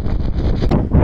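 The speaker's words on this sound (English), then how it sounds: "It's very windy up here." Strong wind on the Great Gable mountain summit buffets the microphone in heavy, low rumbling gusts, loud and continuous, with a harder blast near the end.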